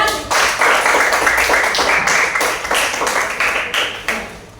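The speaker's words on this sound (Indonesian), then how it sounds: "Tepuk tangan untuk kita semua." A group in a classroom claps their hands together, loud and close, a thick continuous patter that holds steady and tapers slightly near the end.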